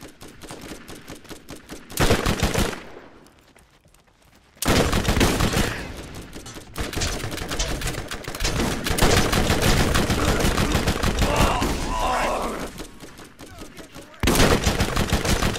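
Dense, loud automatic gunfire from a Borderlands shootout rattles in long rapid bursts, broken by a brief lull, with occasional voices mixed under the barrage.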